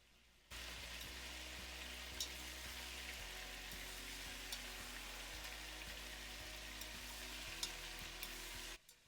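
Beef stew meat searing in an oiled pot, a steady close crackling sizzle that starts abruptly and holds evenly, with occasional pops and a soft stir, then cuts off.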